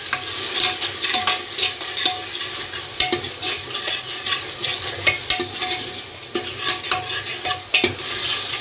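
Tomatoes and green chillies fry with masala for beetroot sabzi, a steady close sizzle broken by repeated scraping stirs of a spoon against the pan, with no voices.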